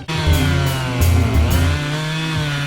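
A chainsaw cutting wood in the Tysa river forest near the village of Krasna, the engine droning loud and close with a strong, steady buzz that rises and dips as the chain bites.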